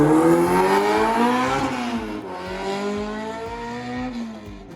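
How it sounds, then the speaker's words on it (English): A Ford Mustang powers around a race track at Riverside, engine note rising and falling through the gears as it passes at a distance, loud and continuous with no talk. "Mustang's going in through Riverside right now."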